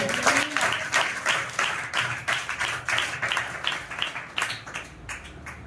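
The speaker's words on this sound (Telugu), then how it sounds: "చప్పట్లు కూడా దేవుని మహిమ" A church congregation claps in a steady rhythmic beat, many hands together at a roughly even pace, loud and close, with a brief voice at the start.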